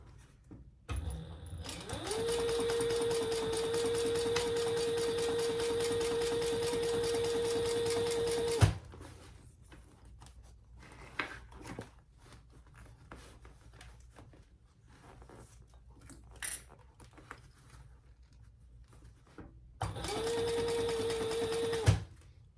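Sewing machine running a 1/8-inch basting seam on a crossbody bag, with a long steady whirring stitch run, a quieter stretch with handling noises, and then a second short burst of stitching.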